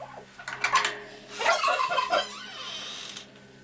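Several female turkeys call in short bursts of yelping and clucking, fairly close, with quieter chatter trailing off and a steady low hum underneath.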